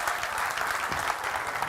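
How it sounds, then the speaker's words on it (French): A church congregation claps in dense, even applause that stays level and sustained for a short stretch, with no talking over it. "alors on applaudit vraiment l'Éternel."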